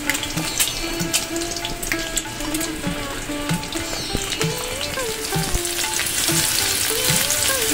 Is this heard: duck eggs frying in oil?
yes